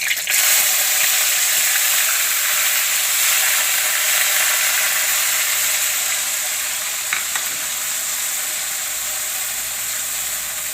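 Sprouted moong and moth beans drop into hot oil with browned garlic, and a loud, steady hiss of frying starts at once and carries on evenly, easing off slightly toward the end.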